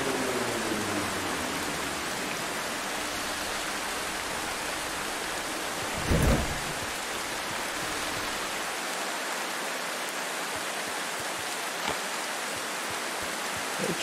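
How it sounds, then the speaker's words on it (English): Steady rain falls in the video game The Final Station, a continuous hiss of moderate loudness with one brief louder burst partway through. "It's raining, man."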